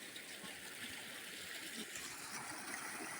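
Water from a 7.5 HP motor pump outlet gushes into a wheat field, heard as a constant rushing roar with steady turbulence. It is heard alone, without voices.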